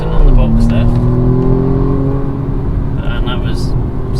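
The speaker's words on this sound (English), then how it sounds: "So 30 mile an hour, floor it." BMW M135i four-cylinder pulling hard from 30 to 60 mph under full throttle, a steady rising engine drone heard from inside the car with people talking over it.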